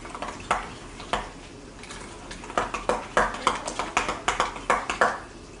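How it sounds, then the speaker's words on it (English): Metal spoon stirring ground pepper into a beef and egg noodle casserole in a pot, a run of quick clinks and scrapes, sparse at first then a steady rhythmic clatter, close and moderately loud. "we're going to stir it all in"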